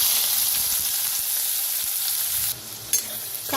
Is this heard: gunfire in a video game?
no